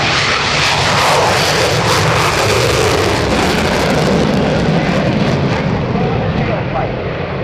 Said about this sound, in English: The throttles have been shoved all the way past military into full afterburner, giving the aircraft an incredible kick in the pants.